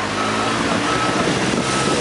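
A truck backs away from a pedestrian bridge it was about to hit. Loud engine noise runs under rapid reversing beeps, with some indistinct voices mixed in.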